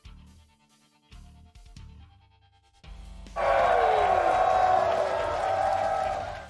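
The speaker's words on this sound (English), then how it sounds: "The crowd's really a fan of the vertical suplex." A crowd cheering in response to a vertical suplex card animation in the Mark Out! wrestling card game, a swelling roar that kicks in abruptly after a few quieter game tones and holds loud to the end.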